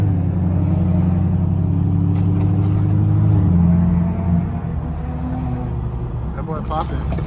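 A catless Camaro SS with a tune rumbles loudly in traffic, a deep steady exhaust drone with a shift in tone midway and crackling pops near the end, heard from inside the car.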